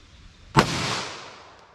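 A single sharp gunshot from a .357 SIG pistol fired outdoors at a chronograph, a loud crack followed by a decaying tail of echo, with no talk.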